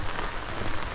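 Rain falling steadily on a surface along a road, a dense continuous hiss of drops without pauses, close and even in loudness throughout.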